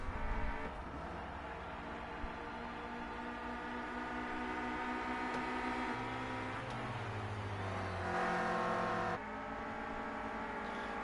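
Race cars in a PlayStation 4 racing game drone past with steady engine whine, pitch shifting as cars overtake and draft, one nearer car swelling briefly before the sustained engine noise settles again.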